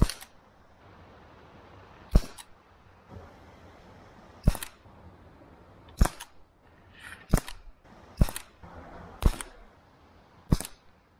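An Umarex TP 50 T4E pistol fires about nine sharp, loud cracks at a 10-metre target, each shot standing alone and spaced irregularly one to two seconds apart, with quiet in between.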